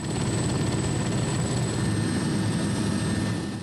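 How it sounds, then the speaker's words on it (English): Helicopter blades whirring in a steady, loud, continuous drone with a high whine, close by while it is unloaded during disaster relief in Hatay, Turkey. "They quickly unload the helicopter, struggling against the whir of the blades, which never stop."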